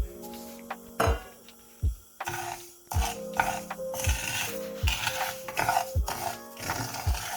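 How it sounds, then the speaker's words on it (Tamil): Sago pearls dry-roasting lightly in a pan, heard as a run of sharp scraping clinks and low thuds that repeat roughly once a second over a faint background hum, close by with no talking. "சவ்வரிசியை லைட்டாக வறுத்தெடுக்கணும்."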